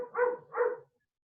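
A dog barks twice in quick succession at home during an online lecture, two fairly close, medium-pitched woofs about half a second apart, followed by silence.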